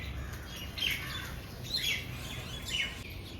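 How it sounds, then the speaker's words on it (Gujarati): Sparrows and other birds chirp in the morning, giving a few short, bright tweets at intervals over a low background rumble. The calls are faint and sound some distance away. "પક્ષીઓ સવારે આવે છે"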